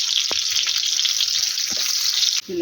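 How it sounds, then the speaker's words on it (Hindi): Onions fry in hot ghee in a pan for a dhaba-style chana daal, a loud, steady, close hiss of sizzling that continues throughout before cutting off abruptly near the end, with no speech. "घी गर्म हो चुका है पैन में, इसको हम डालेंगे प्याज"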